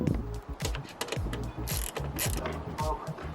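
A ratchet with a six-point star socket works a tail light screw loose on a Mercedes-Benz Sprinter van. Close, rapid clicking comes in quick bursts with brief pauses.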